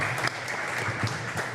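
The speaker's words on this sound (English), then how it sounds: "I want y'all to clap for Kylie" Studio audience clapping for Kylie during a live talk show, a steady dense wash of applause filling the short stretch without pause.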